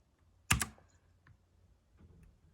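Keys on a Rampage Ally K11 keyboard are pressed in one sharp double clack, followed by a few faint softer taps, close and isolated in a quiet room.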